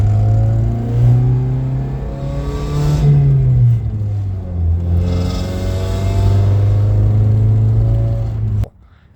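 Through a Super 10 muffler, a four-cylinder car's exhaust drones loudly and up close as it revs up twice and eases back. It holds steady at a raised speed before cutting off abruptly at the end.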